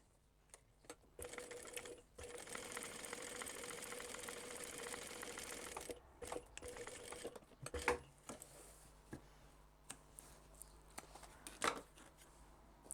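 A sewing machine stitches a crossbody bag: a continuous close-up run of rapid needle chatter for about six seconds, then a pause followed by short stop-start bursts and scattered clicks.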